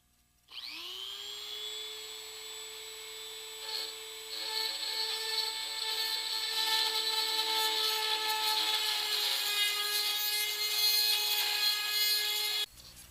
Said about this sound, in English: I'm going to start drilling on it